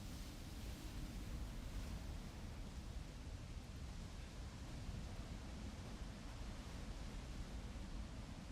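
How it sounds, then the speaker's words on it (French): A waterfall in the video game Resident Evil Village roars as a steady, broad wash of rushing water that is constant and unbroken throughout, with no voices over it. "Oh, la cascade."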